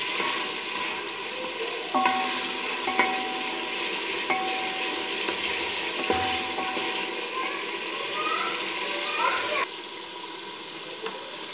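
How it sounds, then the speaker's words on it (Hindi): Spoon mashing daal masala in a pan, a steady sizzling cook with repeated scraping and stirring strokes and a few light metallic taps, close and continuous, without talk. "जो कोई चीज़ खड़ी है उसको अच्छे से इस तरह से आप मैश कर दें चम्मच की मदद से"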